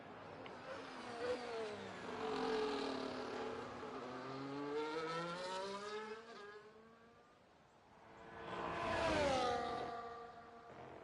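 A Mercedes race car engine on a hot lap in a racing video game, revving steadily through rising gear sweeps, dipping briefly and then screaming up again, loud and unbroken.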